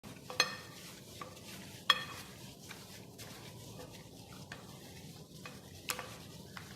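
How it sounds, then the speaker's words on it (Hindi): Spice masala is worked into mutton chops by hand, producing soft wet squelching and rubbing with a few sharp clicks and taps of a utensil against a bowl, close and quiet. "इसको हाथों की मदद से हम अच्छी तरह से मिक्स करेंगे"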